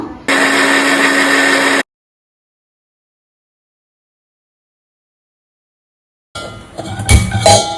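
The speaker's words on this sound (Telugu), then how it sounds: "ఇది మనం మిక్సీ పట్టుకుంటాము" A kitchen mixer grinder blends three large chopped tomatoes, a loud steady whirring burst lasting about a second and a half, followed by silence and then clattering handling noises.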